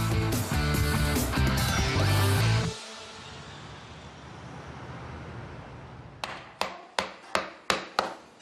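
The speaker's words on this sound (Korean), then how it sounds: "뼈를 망치로 내려치는 작업자." A hammer strikes Korean Hanwoo cow beef rib bones in a row of sharp, evenly spaced blows that follow a loud stretch of clattering, close and clear with no talk.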